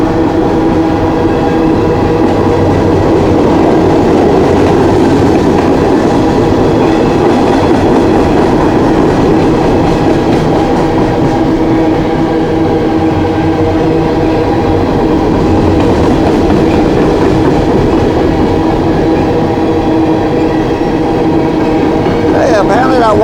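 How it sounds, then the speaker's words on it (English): A long coal train rolls past near Deep Water, West Virginia, a loud, steady rumble with rhythmic wheel clatter and squeal lasting throughout, heard close by. "Coal train."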